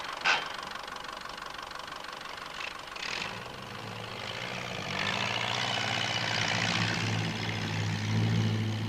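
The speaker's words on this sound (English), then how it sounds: "he tries his hand at driving for the first time" A Ferguson TE-20 tractor engine runs in a steady, throaty drone as someone drives it for the first time. The engine note grows fuller and louder partway through and stays continuous, with no voices.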